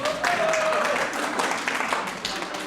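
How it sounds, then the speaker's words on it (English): Applause from an audience as a speaker turns on his microphone, a steady patter of many hands clapping filling the room, gradually thinning toward the end. "It's pretty bad when you get applauded for turning on your microphone"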